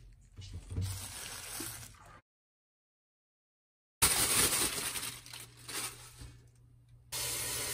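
Tap water running into a sink to soak Sichuan hotpot ingredients, a steady close splash that stops for a moment and then resumes strongly, with some crinkling handling noise.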